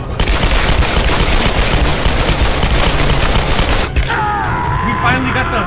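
Sustained automatic gunfire in Tomb Raider, a dense, loud rattle of rapid shots that runs for several seconds, then breaks off into quieter game sounds.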